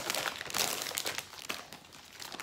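Plastic wrapping on a package of storage bags crinkles and crackles as it is opened with scissors, a quiet, close, continuous rustle with a few sharper crunches.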